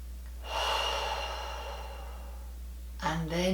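A slow, deep breath in and out during a meditative pause, close and soft over a low steady hum, with a brief vocal sound at the end.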